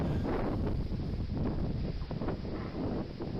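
Wind gusts buffet a trail camera's microphone outdoors at night, a steady low rumbling roar with shifting surges throughout.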